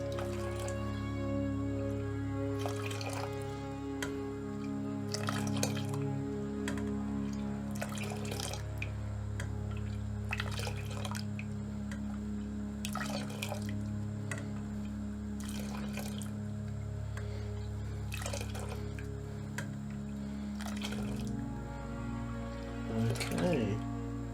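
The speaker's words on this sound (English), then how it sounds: "Why are they picking the tea up and just dropping it down?" Chai tea being poured from a height between vessels, a steady splashing, dribbling stream with repeated drips and trickles over a low continuous hum, while a person talks throughout.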